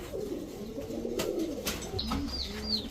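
Pigeons coo softly in a pet pigeon farm, a few low rolling coos with a couple of brief higher chirps mixed in, close by and without speech.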